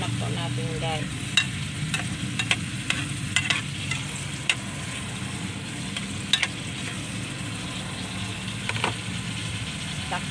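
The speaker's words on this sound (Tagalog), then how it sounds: "At ihalo na po natin guys." Milkfish liver adobo gets stirred in a frying pan with a gentle sizzle underneath and repeated scraping, clacking strokes of a spoon against the pan, heard close and with no talk.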